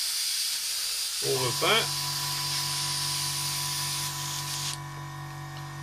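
An airbrush blasts cleaner through in a sharp hissing spray that starts about a second in and runs steadily, then drops in strength near the end, while a person talks briefly over it.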